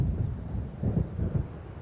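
Low rumbling thunder from an approaching storm in the game Alan Wake, a deep rolling grumble that swells in a couple of dull surges, with no talking.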